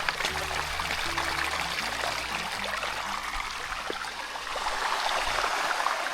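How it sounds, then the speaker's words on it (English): Stream water flowing beside a mountain trail on Seoraksan, a loud, close, continuous rushing and gurgling that swells slightly toward the end, with no talk. "there is water flowing, at least here, so maybe we will see some nice waterfalls"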